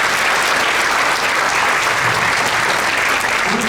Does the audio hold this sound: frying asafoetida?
no